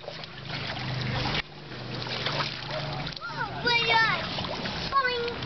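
A child jumps into water with a splash, and close splashing and sloshing follow while children's voices chatter and shout over it.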